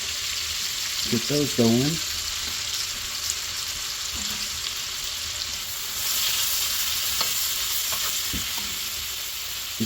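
Leeks and green onions fry in bacon fat in a cast iron pan, a constant close sizzle with occasional scrapes and taps, while someone talks briefly over it.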